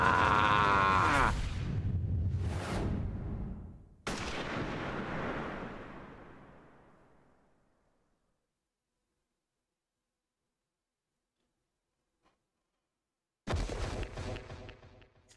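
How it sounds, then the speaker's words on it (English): Sniper gunshots ring out in a courtroom scene of the video game Ace Attorney: Dual Destinies, loud booming blasts with long fading tails, then a stretch of near silence before another sharp burst at the end. "a sniper attack in this very courtroom"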